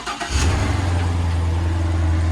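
A work truck engine cold-starts, cranking briefly and catching, then settles into a loud, steady, rumbling idle close by.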